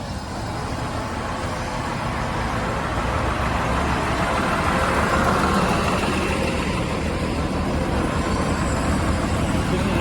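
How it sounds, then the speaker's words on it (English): A Kenworth truck's diesel engine rumbles loudly and steadily at a construction site where sidewalk concrete is being poured, a continuous close drone with general site noise behind it. "Kenworth truck. I know it's loud."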